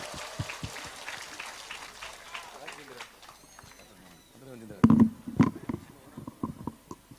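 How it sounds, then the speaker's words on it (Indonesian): Audience applause at an Islamic boarding school event honoring Defense Minister Prabowo Subianto, a burst of clapping rising after speech and a pause, with loud claps and voices mixed in. "Tepuk tangan untuk Pak Prabowo."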